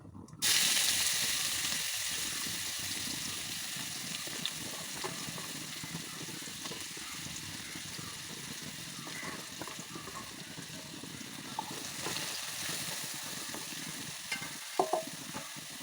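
Chopped onions and dried red chillies sizzle loudly in hot oil for a jackfruit curry, a constant close frying hiss with occasional stirring scrapes and small pops.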